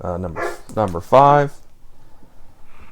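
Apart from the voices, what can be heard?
dog barking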